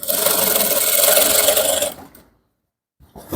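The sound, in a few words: sewing machine top stitching trouser rope waistband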